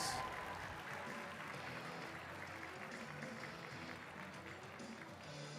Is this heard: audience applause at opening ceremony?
yes